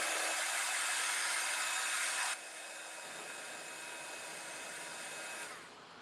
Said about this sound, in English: By using the heat gun over it, it doesn't set the colors.